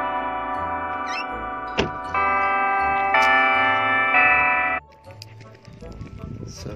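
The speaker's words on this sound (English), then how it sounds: "So you just heard the bells of the church. I think they're electronic." Sustained electronic church bell tones ring with layered harmonic chimes for several seconds, then cut off abruptly, leaving faint background noise.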